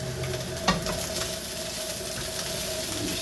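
Chilies, ham, onion and red pepper fry in a pan with no fat or butter, a steady close sizzle with one sharp clink of a utensil early on and light stirring scrapes throughout.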